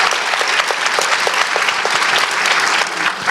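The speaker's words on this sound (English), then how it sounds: "I think round of applause for everybody who just raised their" Loud, dense audience applause fills a conference room at a women's leadership event, a steady unbroken wash of many hands clapping close by for the whole stretch.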